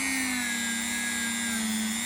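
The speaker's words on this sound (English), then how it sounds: "I don't need to change this polishing wheel" Polishing wheel buffing an Armani watch during restoration, a steady, close whine with a sustained tone that drifts slightly in pitch, running unbroken and alone.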